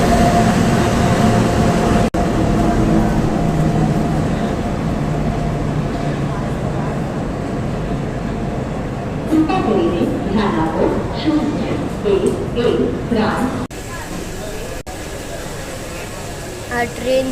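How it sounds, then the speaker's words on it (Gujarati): A train pulls into a station on a trip from Surat to Vadtal, a loud steady rumble with scattered clanks and rattles midway before the noise eases, while people talk over it. "આ બીજી કોઈની ટ્રેન આવી છે"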